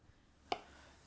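A single crisp knife chop lands on a board as a hard-boiled egg with a deep yellow yolk is quartered lengthways, a brief, close, isolated cut in a quiet kitchen.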